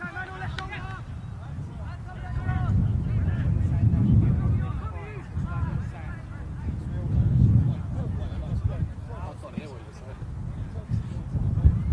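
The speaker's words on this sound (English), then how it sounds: "Windy, the wind's picked up." Wind gusts rumble and buffet the microphone in low surges during a live football match, with someone talking over the top throughout.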